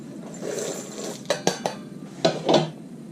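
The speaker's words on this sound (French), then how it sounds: "je vais laisser griller les épices tout en les remuant pour pas qu'ils attachent" Whole spices toasting dry in a small pot on the stove with no oil or water, a faint low rustle punctuated by several sharp metallic scrapes and clinks of a utensil against the pan.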